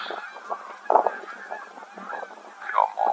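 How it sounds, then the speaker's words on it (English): A whole flock of geese honks just after flying off a pond, giving overlapping, fairly distant calls against steady outdoor background noise, with no talking. "we've got a whole bunch of geese just come off the pond"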